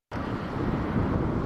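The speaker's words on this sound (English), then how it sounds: "you can feel the wind and it is strong" Strong wind buffets the microphone in a steady, loud rush of broadband noise lasting the whole moment, with no voices heard.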